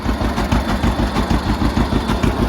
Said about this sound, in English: John Deere 60 putting away.